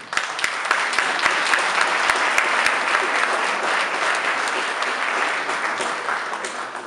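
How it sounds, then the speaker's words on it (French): A room full of people applauding steadily, dense clapping that stays loud throughout and eases slightly toward the end. "Je vous propose de les applaudir collectivement pour commencer"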